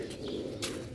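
A pet pigeon gives a short, soft coo up close, a single low murmur lasting about a second against quiet background noise.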